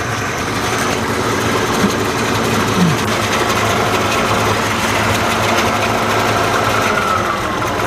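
A 1995 Audi A6 Quattro sits idling to warm up, giving a steady, continuous engine hum that stays even and unchanging throughout with no talking.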